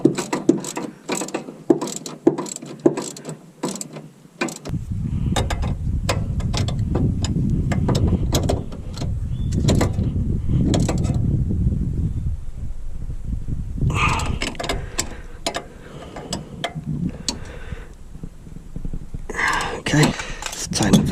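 Tightening pinch bolts on an Armstrong lever arm shock absorber fitted to an MGB GT, with fast runs of ratchet clicks and metallic clatter up close over a steady rumbling background.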